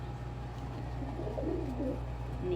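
A pigeon or dove coos softly a few times in a quiet indoor room with a steady low hum, fairly close and alone without talk.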